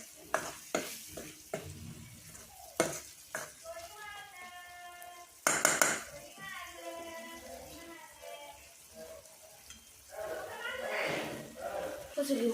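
Spices being stirred into frying pav bhaji in a pan, with scraping strokes and clanks over a steady sizzle, while someone talks over much of it.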